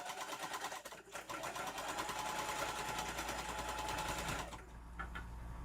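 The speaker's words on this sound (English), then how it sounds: "And then I'm going to sew, back stitch, and sew off of the machine." A sewing machine stitches a tote bag in one steady, fairly quiet run, its rapid mechanical whir continuing without pause before easing off near the end.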